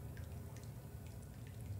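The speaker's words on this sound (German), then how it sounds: "Die Rohre tropfen seit Tagen, Monaten, Jahren." Water drips from old pipes in the horror game Song of Horror: faint, scattered drops falling at an uneven pace over a low, steady ambient hum.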